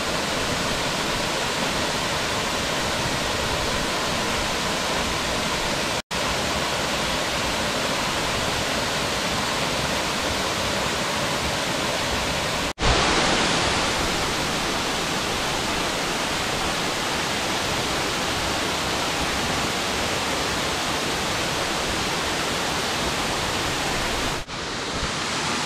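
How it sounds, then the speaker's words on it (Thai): Second tier of a waterfall in Kanchanaburi, a loud, steady roar of falling water that fills the whole scene without a break. "ฟังเสียงสายน้ำตกไหลลงมาครับ"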